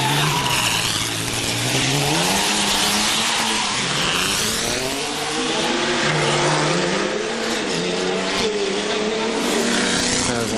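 A historic Maserati race car races through the Monaco historic Grand Prix circuit, its engine a loud continuous howl that rises and falls with gear changes and revs, with other cars close by and brief tire squeal.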